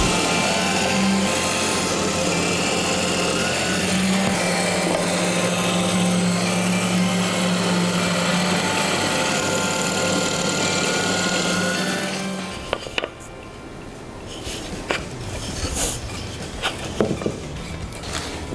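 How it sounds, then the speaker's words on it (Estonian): Drill press boring a hole into a glued wooden block, a loud steady whirring drone for about twelve seconds that stops abruptly, followed by lighter handling clatter and scraping. "Ja nüüd ei ole muud, kui puurida üks portsauke."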